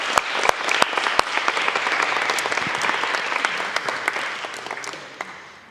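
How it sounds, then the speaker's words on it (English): An audience at a Lean Agile Edinburgh evening of talks gives a warm round of applause, with dense, sustained clapping and a few sharp individual claps standing out near the front, fading slightly toward the end. "So just another quick round of applause for both of them."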